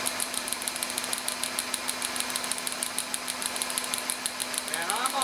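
A car engine runs steadily during a compression test, with a fast, even rhythmic pulse that stays loud and close throughout and a faint whine rising near the end.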